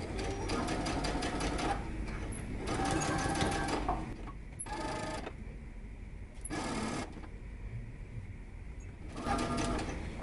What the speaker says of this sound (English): You're just going to stitch down.